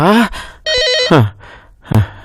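Telephone ringing in a Telugu TV serial scene, one sustained electronic ring burst between sighs and gasping vocal sounds, loud and close.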